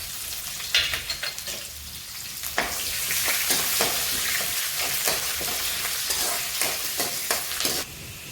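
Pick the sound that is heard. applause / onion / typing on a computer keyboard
onion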